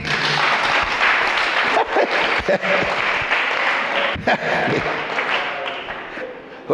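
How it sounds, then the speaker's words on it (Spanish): Steady, loud applause from a church congregation during a sermon, continuous clapping with some voices mixed in throughout. "Denle un aplauso a su nombre."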